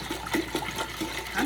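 Distilled water poured from a gallon jug into pickle brine makes a steady, close splashing rush with rhythmic glugging pulses as air gurgles back into the container.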